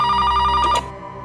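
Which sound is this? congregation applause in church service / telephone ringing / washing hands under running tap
telephone ringing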